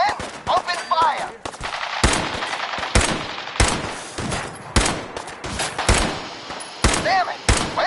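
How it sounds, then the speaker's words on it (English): Police officers in Fallout 4 open fire in a loud video game firefight, with bursts of rapid gunshots and single heavy reports cracking close by, punctuated by shouting voices. "Men, open fire."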